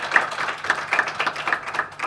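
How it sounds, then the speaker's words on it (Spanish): Audience applause for student fiction readers at an undergraduate literature colloquium, a steady stretch of close, crisp hand claps lasting about two seconds with no talk over it. "no queremos dejarlas ir sin darles un caluroso aplauso"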